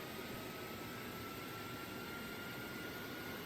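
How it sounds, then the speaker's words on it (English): In the game Airport Sim, an airliner's second jet engine spins up with a steady, even whine and a faint high tone, holding throughout at moderate level, with no voices present. "And here we go, spinning up engine 2."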